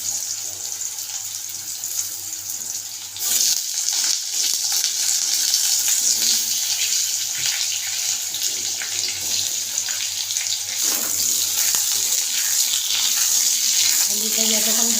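Cut, washed potatoes frying in oil tempered with nigella seeds, a continuous loud hissing sizzle that swells after a few seconds and holds steady with faint clatter.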